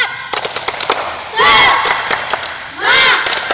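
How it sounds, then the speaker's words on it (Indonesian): Children doing a 'tepuk semangat' chant, with loud, close rapid rhythmic clapping broken by two loud group shouts of a word, the shouts swelling and then ending. "Tepuk semangat."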